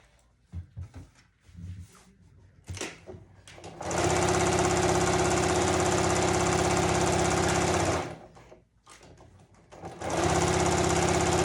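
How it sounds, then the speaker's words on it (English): A sewing machine runs in two long, steady bursts, stitching a fold on a boxy fabric bag. It hums loud and close, with brief handling noises before the first run and a pause between the two. "you are going to fold it and sew it down this way right here."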